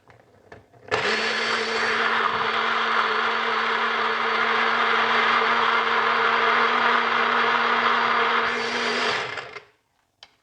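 A blender blitzes garlic and ginger in liquid, whirring loudly and steadily for about eight seconds, starting and stopping abruptly, with a high-pitched motor whine over the grinding.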